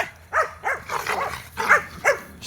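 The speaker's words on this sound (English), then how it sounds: "we're far enough away from houses I can let them have a bark" Earth dog terriers barking outdoors away from houses: several short, close yapping barks in quick succession with brief gaps between them, and no one talking.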